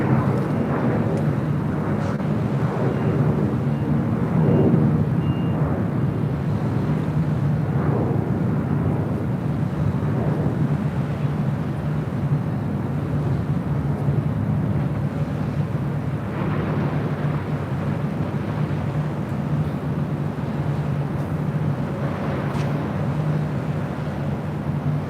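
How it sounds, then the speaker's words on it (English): A Delta Airlines A319 airliner arriving at LAX on the north side, heard as a steady, moderately distant low engine roar that holds evenly throughout with no talk over it. "Next arrival here on the north side, Delta Airlines Flight 1445 coming in from Portland on an A319."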